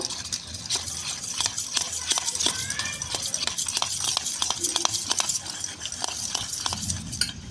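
A spoon stirring chili, tomato sauce and soy sauce together for chili fish, with repeated scraping and clinking against the bowl in an irregular rhythm, close and clear.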